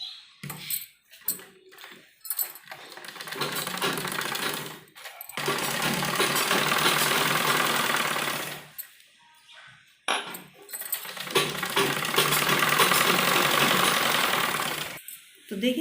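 A sewing machine stitches a folded strip onto a trouser in three separate runs of steady mechanical whirring, each a few seconds long, broken by short quiet pauses with soft handling noises.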